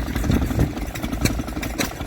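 An old stationary engine idles at the Woolpit vintage rally, a steady close-up mechanical chugging with faint rhythmic knocks and no talking.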